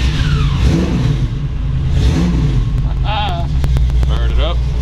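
A 1956 Ford F100 hot rod with a 454 big block engine and headers is fired up and revved, its deep rumble rising and falling in loud swells; someone speaks briefly over the engine.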